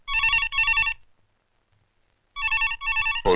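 A telephone rings loud and close with a classic double-burst electronic bell, two rapid trills, a pause of silence, then two more, cut off as someone starts speaking.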